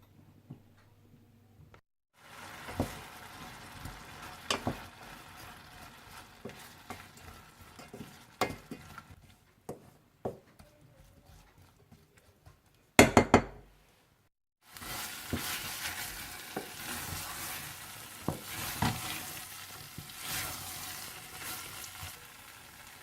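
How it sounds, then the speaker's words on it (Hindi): Soft sizzling and bubbling of dates simmering in water in a pan over low heat, with occasional scraping stirs and clicks, quiet and intermittent. "और इसे आप हल्की आंच पर इतना पकाइए कि ये बिल्कुल घुट सी जाए और पानी खत्म हो जाए"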